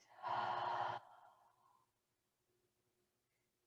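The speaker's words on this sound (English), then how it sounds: "Breathing out to the right." A single deep exhale during a yoga session, a loud, breathy rush lasting under a second that trails off into quiet, close to the listener with no talk over it.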